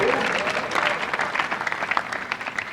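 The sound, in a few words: applause for the laureates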